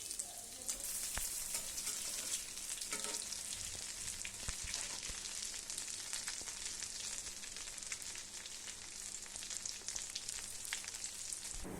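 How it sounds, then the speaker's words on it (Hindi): Chicken potato cutlets fry gently in oil over a low flame, a soft continuous hiss scattered with small crackles and pops, fairly faint and steady throughout with no voices. "कटलेट्स को फ्राई कर रहे हैं लो फ्लेम पे"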